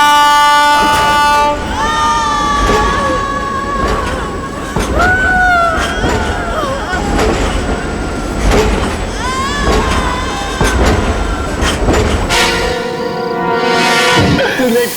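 Train running on rails, a loud continuous rumble and clatter with repeated horn-like tones and a sharp tonal burst near the end, with voices talking over it.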